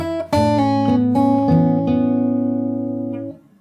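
A fingerpicked guitar plays a brief passage from a song, five or six plucked notes in a steady pattern over resonant bass, close and fairly loud, cut off sharply near the end, no talk.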